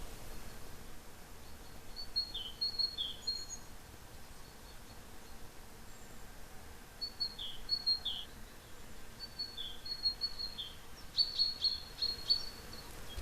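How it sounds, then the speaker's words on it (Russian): Small birds sing in spring outdoors, repeated thin high chirps in short bursts at moderate distance over a soft steady hiss, with no talking. "Птички по-весеннему запели."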